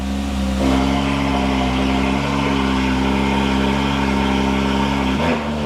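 Porsche engine idling and revving in a garage with the exhaust valves open, a loud, steady, deep rumble close by, with a short blip near the end.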